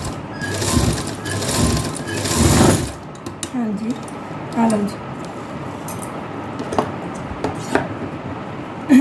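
A sewing machine stitches pleats on a frock in a dense, fast whirring burst for about three seconds, then stops, followed by quieter handling clicks and faint talk.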